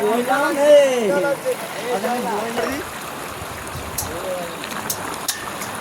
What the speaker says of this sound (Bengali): ইলামবাজার অজয়, প্রচন্ড জল, জলের টানো নাকি।